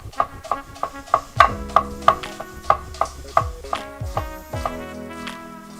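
Knife slicing green onion whites on a board, a regular series of about fifteen crisp, close chops with a ringing tonal quality, evenly paced with brief pauses and no talk.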